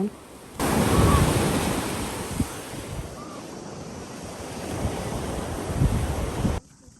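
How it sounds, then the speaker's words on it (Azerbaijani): Sea waves washing onto a beach, a steady broadband surf roar with rising and falling swells, mixed with wind buffeting the microphone; no speech. "Sonra da yollandıq Çimərliyə, belə yenə dalğalı bir dəniz mənzərəsi ilə."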